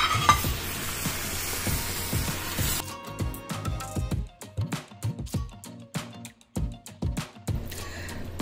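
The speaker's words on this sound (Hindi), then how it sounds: "अच्छे से हिला के चीनी को इसके अंदर मिला लेंगे।" A spoon stirs sugar into milk for rabri kulfi, making rhythmic scraping strokes against the pot, first under a hissing simmer and then as clearer repeated scrapes alone.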